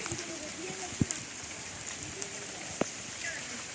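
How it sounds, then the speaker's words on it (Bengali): Steady rain patters on a surface after a long dry spell, with scattered louder drops and knocks, while someone speaks nearby. "বহুদিন পর বৃষ্টি হচ্ছে কালকা থেকে"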